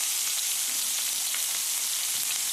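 Garlic sizzling as it is dropped into hot oil while cooking okra curry, a steady bright crackling fry with scattered pops, close and loud with no talking.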